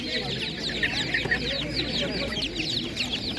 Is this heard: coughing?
no